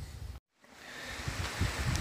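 Wind gusting around an open fire tower on a cold, rainy, foggy day, a steady rushing roar with a brief dropout near the start, then building again with soft buffeting thumps.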